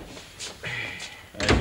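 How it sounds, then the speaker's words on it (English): A door is pushed shut indoors, ending in a solid thud after a brief sliding scrape, heard close and fairly quiet. "Shut the door."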